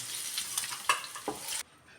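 Paneer pieces frying in a little oil with turmeric and chilli powder in a pan give a steady close sizzle with stirring scrapes, then the sizzle cuts off abruptly.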